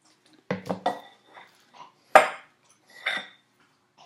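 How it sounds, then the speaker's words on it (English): A ladle handle scrapes and scoops peanut butter into a bowl, giving a few sharp metallic clinks and taps spaced irregularly, close and fairly quiet against an otherwise silent room. "So I'm going to use the handle of the ladle and see if I can scoop some out here and get it kind of into the bowl."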